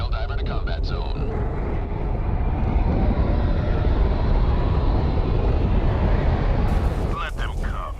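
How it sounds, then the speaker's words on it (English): Loud, dense roaring rumble of a Helldiver drop pod plunging toward a combat zone in the Helldivers 2 video game, building steadily across the whole stretch and easing near the end as a few brief sharper sounds come in. "Allied destroyer joining squadron, deploying Helldiver to combat zone."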